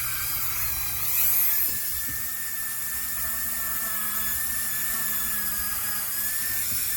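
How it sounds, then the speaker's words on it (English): A Dremel rotary tool whines at a steady high pitch, grinding the edge of a resin pendant continuously with a slight wobble in tone, close by and moderately loud. "So I'll just put it in my Dremel, same way you always do. And then I'm going to actually grind off this edge."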